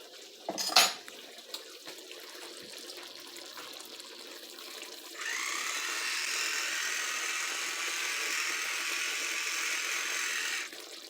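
A spoon clinks against a pot or sink in a home kitchen, with a few sharp metallic knocks. The tap then runs in a steady close hiss of water for several seconds before it shuts off.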